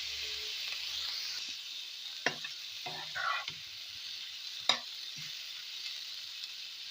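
Salt and turmeric are stirred through in a frying pan, with a soft continuous sizzle and a few distinct scrapes and knocks of the utensil against the pan, no voices.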